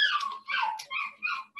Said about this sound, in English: I'm sorry about the noise in the background, the dogs.